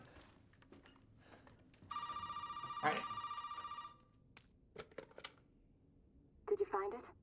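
A telephone rings in the horror video game Resident Evil 7, a steady electronic ring lasting about two seconds at moderate loudness, with a brief spoken word and some clicks and footsteps around it.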